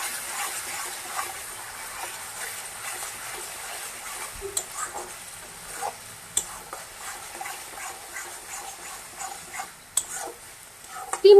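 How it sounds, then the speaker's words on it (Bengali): Curd katla fish masala being stirred in a pan, soft sizzling underneath scattered scraping and tapping of a spoon against the pan, a few sharper knocks standing out. "এবার এটাকে আরেকটু ভালো করে নেড়ে নিব।"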